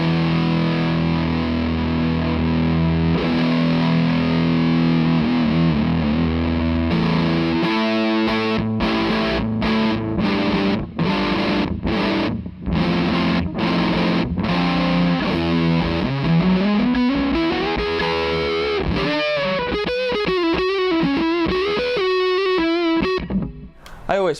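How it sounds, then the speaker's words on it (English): A heavily fuzzed electric guitar through an Argenziano Effetti Voodoo '67 fuzz pedal at maximum fuzz plays for a long stretch, thick and saturated, moving from sustained chords into choppy stabs and quick sliding runs. "Let's max out the fuzz"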